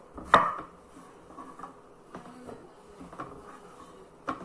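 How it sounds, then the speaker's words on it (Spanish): A knife chops food on a cutting board in a home kitchen, with one sharp knock followed by scattered softer taps at an irregular pace, close by and fairly quiet. "vamos a seguir picando y picando y picando"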